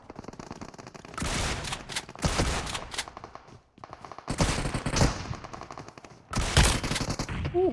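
Bursts of automatic gunfire in PUBG Mobile, several loud rapid volleys separated by short pauses, with no talking over them.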